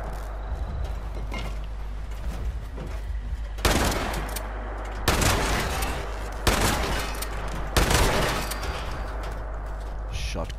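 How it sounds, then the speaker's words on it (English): Shotgun firing in the building game C.A.M.P.: several loud, close blasts spaced a second or so apart, each with a broad noisy burst and short tail, over a low steady hum, with some talking. "Shotgun. Never leave home without one."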